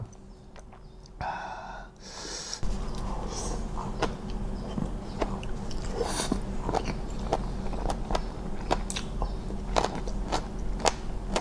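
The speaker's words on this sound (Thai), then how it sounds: "แล้วก็หูหมูก็แบบกรุบกรุบ" Repeated crisp crunching and biting sounds of pig ear being chewed, steady and close, with brief rustles between bites; no one speaks.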